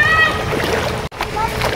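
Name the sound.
splashing in river water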